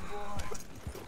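Horse hooves clip-clop in Red Dead Redemption 2, two soft low thuds with a brief whinny-like tone, close and moderately loud amid game ambience, with a little talk-like sound.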